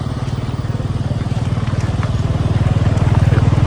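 A motorcycle engine chugs close by in a jammed holiday traffic queue on the Preah Dak road near Siem Reap, its rapid throbbing pulse steady and growing slightly louder over a few seconds, with no talking.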